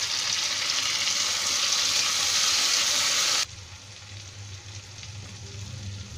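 Tomatoes frying with spices and onion in a pan, a loud bright sizzle that suddenly drops to a softer, lower bubbling as the mixture is stirred, with no talking.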